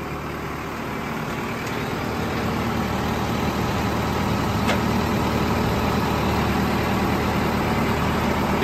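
Engine of a 5911 tractor running steadily in second gear, a constant low diesel drone that stays even and unbroken throughout, close by and loud with no speech.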